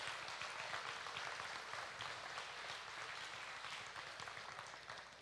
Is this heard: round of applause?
yes